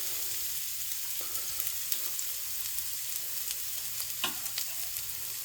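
Garlic and onion fry in hot oil in a pan with a soft, steady sizzle, broken by light crackles and one brief clink of a utensil, fairly quiet and close with nobody speaking.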